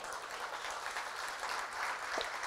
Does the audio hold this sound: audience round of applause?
yes